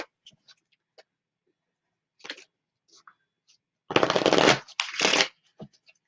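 Tarot cards being shuffled by hand, scattered soft taps and flicks followed by two loud, close riffling bursts in quick succession, with near silence between.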